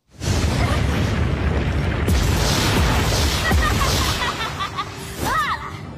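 Nuclear bombs exploding in the animated Chinese donghua My Holy Weapon, heard as loud, continuous booming blasts with rumbling bursts, crackling debris and sweeping effects throughout.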